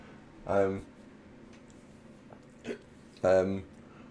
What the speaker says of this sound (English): It is why you've constantly got hiccups.